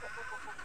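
Young roosters (stags) give a brief, faint clucking call, a single short burst of fowl noise in a quiet farmyard setting.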